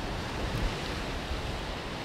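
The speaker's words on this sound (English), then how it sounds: "The waves come right through it." Ocean waves surge around a sea rock and sea stacks on a rugged coast, a steady, loud, broadband roar of churning surf with no clear breaks, heard close and alone.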